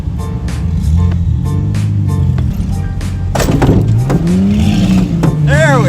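A car spins out on a wet race track, its engine droning loud and close while the revs rise and fall and the tires hiss and squeal, with a voice talking over it.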